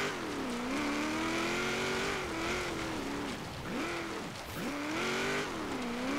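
Car engine revving steadily with rising and falling pitch as tires slide and drift across dirt in Forza Horizon 3 on Xbox One, loud and continuous throughout with brief dips during turns.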